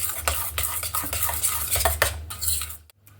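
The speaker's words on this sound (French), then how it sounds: "Et je remue." Chopped spinach with salt and crème fraîche is stirred in a pan, with a utensil scraping and clinking against the metal in repeated strokes, close up, faint sizzling beneath and no talking.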